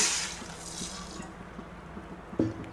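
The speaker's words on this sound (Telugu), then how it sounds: "ఇప్పుడు ఈ కళాయిలోకి కొంచెం వాటర్ యాడ్ చేసుకోవాలండి" Water splashes and pours into a kadai with a hiss at first, fading into quieter trickling and a single splash near the end.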